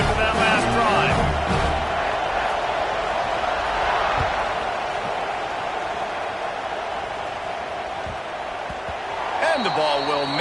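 A football stadium crowd before kickoff sends up a loud, steady roar that swells slightly at the start and end, with a voice talking over it.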